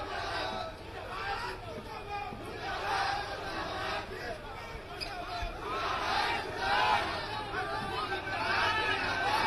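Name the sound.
crowd shouting 'murdabad' slogans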